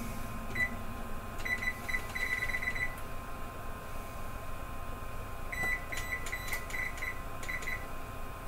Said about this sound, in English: Trying to set my timer